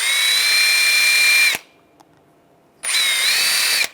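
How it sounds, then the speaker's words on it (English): A wire brush spun by a power tool whines steadily while cleaning the brake caliper pins of a 2006–2009 Mercedes-Benz E350, stopping briefly with a click before starting up again. "Now I'm just going to take the pins, clean these up. Just use a wire brush."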